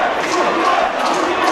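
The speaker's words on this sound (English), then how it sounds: "as you can hear, the crowd all trying for Stuart" A mixed martial arts crowd at a combat event roars and shouts for fighter Stuart West, a loud, dense, steady wall of cheering voices.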